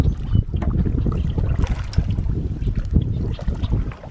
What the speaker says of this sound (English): So easy just to keep going with paddling like this.